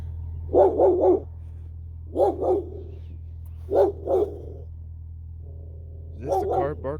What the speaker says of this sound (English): Oh, it's the dog.